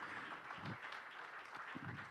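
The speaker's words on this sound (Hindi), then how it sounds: "जोरदार तालियों के साथ आप सभी लोग स्वागत करें" Faint, steady applause from a crowd at an awards event welcoming the deputy chief minister on stage, a soft continuous patter of clapping heard at a distance.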